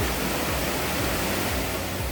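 Water rushes through a wastewater treatment plant, a dense steady roar like a waterfall, loud and unbroken throughout.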